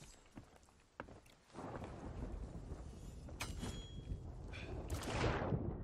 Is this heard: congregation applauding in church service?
no